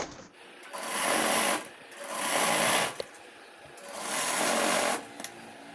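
Sewing machine running in three steady bursts while stitching a straight seam on a petticoat, close and loud, with brief pauses between runs and someone speaking softly during the gaps.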